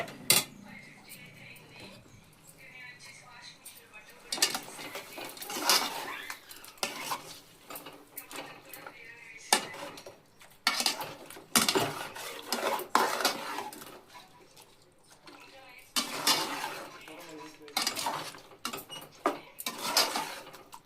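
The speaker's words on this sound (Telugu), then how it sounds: "ఇంకా దీన్ని బాగా కలుపుకోవాలండి" A pot of chicken biryani mixture being stirred, with a spoon repeatedly scraping and clanking against the metal in irregular bursts over a low background, no talking.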